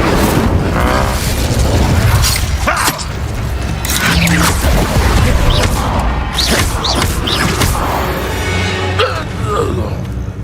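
Incendio fire spells cast repeatedly in Hogwarts Legacy combat, loud booming bursts and crackling impacts layered over dense game noise, with a voice talking throughout.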